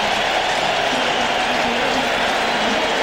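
A home crowd at Pacific Bell Park in San Francisco, on its feet after a booming home run in a 2000 playoff baseball game, sends up a steady, sustained roar of cheering and applause from all around.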